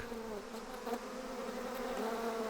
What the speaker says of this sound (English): these killer bees have reached Arizona and Texas. These bees fear nothing.